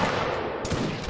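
A volley of musket gunfire in the video game Linebattle erupts as a dense, crackling burst of overlapping shots, loud and brief.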